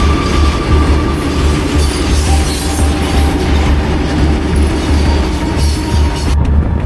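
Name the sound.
train passing at railway crossing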